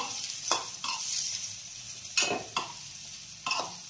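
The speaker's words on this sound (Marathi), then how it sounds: "तो आपण यामध्ये घालूयात आणि छान परतून घेऊयात।" Boiled potato pieces sautéing with green chillies in a pan for a fasting-style masala dosa filling, giving a steady soft sizzle broken by four or five sharper scraping stirs of a spatula, close and with no voices.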